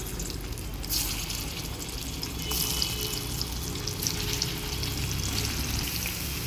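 Pieces of ridge gourd drop one by one into hot cooking oil, setting off a steady hiss of frying with a brief sharper spatter as more go in; no voices.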